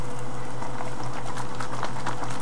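A bottle of passionfruit green tea flavored water is shaken hard, giving a steady close sloshing rattle of liquid throughout, without speech.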